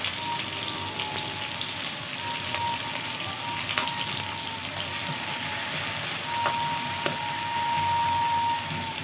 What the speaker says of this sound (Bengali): পেঁয়াজ লঙ্কা দিয়ে দেবো এবং এটাকে অল্পটা ভেজে নেব